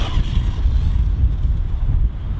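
Wind buffets an outdoor microphone on a windy day at an RC car bash session, a continuous low rumbling flutter with no other clear sounds.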